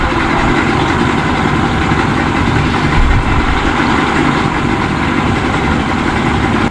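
A Yamaha 50 HP two-stroke outboard motor runs steadily at close range, a constant loud engine drone with no pauses and no talk.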